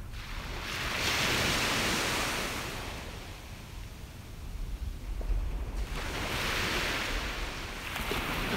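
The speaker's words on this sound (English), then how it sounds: "it's comforting to hear the waves" Ocean waves surge onto a beach in two broad swells, each building into a loud rushing wash before receding, with wind buffeting in between.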